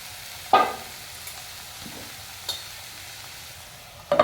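Vegetables for oats poha fry quietly in a pan with nuts and raisins, a faint steady sizzle broken by a few scraping stirs and clinks of a utensil against the pan, the loudest near the start and end.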